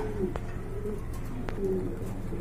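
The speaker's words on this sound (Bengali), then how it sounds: "তো অনেকের পছন্দের কবুতর দেখতে পাচ্ছেন" Pigeons coo softly, including a pair of American Lakha pigeons and an Andalusian pigeon at a bird market. The low, repeated calls sit over a busy background murmur, with a couple of sharp clicks.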